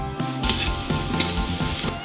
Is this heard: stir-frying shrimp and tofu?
yes